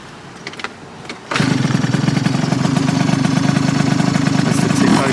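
A small 50cc scooter engine, a Norxi Mini 4 moped, sputters to life after a second of quiet, then idles with a steady, fast putter.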